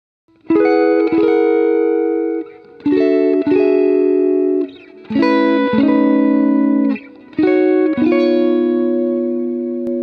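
Electric guitar strums a sus 9 chord four times in a slow, even pattern, each ringing out with a bright, effected tone before the next attack.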